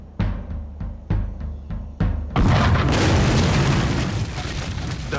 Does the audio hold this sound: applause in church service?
no